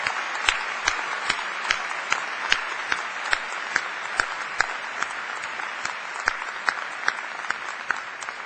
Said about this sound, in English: would the audience please join me in applauding our newest PhDs and EDDs.